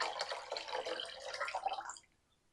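Lime juice pours steadily into homemade elderflower cordial, a close liquid splashing and trickling for about two seconds before stopping abruptly.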